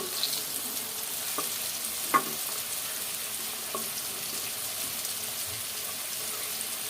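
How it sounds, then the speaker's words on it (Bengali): Potatoes fry in hot oil with a soft, continuous sizzle at moderate level, punctuated by a few sharp spatters and utensil taps, with no voices. "আলু ভেজে নিচ্ছি তারপর কী করবো তারপর বেগুনটাও ভেজে নেব"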